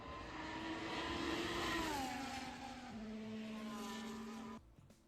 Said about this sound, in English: F1 cars on track.